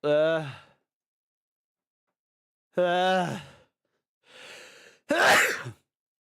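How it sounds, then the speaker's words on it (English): A couple of voiced sighs or vocal sounds, then a sharp, loud sneeze burst near the end, close up with silence between. "I'm going to sneeze as well."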